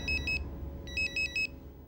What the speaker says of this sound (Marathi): पल्लवीचा फोन आहे.